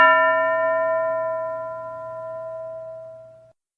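A single bell struck once in a classroom radio programme rings out clear and sustained, its bright metallic tone fading slowly over a few seconds with nothing else around it.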